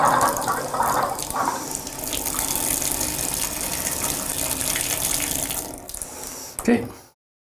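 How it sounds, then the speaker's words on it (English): Water runs from a bathtub faucet during a test of a newly renovated tub and shower, a steady close rushing flow lasting most of the moment before cutting off. "Water's automatically going to the tub."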